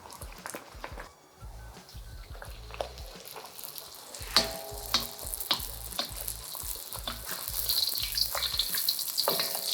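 Trini fry bake dough made with yeast frying in hot oil: a steady crackling sizzle that swells and grows brighter as oil is spooned over it, with occasional scraping and splashing, close and without talk.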